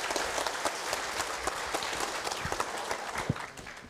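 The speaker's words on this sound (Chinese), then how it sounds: "好，大家热烈掌声。" Audience applause at a Buddhist dharma gathering, a dense sustained burst of many hands clapping that fills the room evenly and begins to thin out toward the end.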